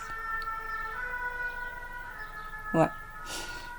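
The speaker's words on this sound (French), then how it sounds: "je sais pas si ça s'entend, il y a l'ambulance" An ambulance siren passes outside, heard as faint, steady wailing tones in the background; a person briefly says a single word midway.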